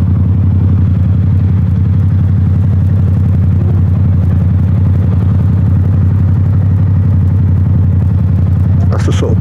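A motorcycle engine runs on a London street, a loud, steady low rumble idling close by for the whole stretch, with a brief rattle near the end.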